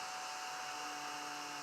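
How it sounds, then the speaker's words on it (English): A small desktop vacuum cleaner runs over spilled baking soda, giving a steady faint motor whine and airy hiss with no voices. "let's just see if it'll vacuum it up"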